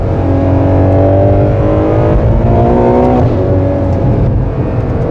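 Ferrari 12Cilindri V12 accelerating hard, a loud sustained engine roar with rising harmonic pitch that drops briefly at a gearshift near three seconds, then climbs again, close by with no talking.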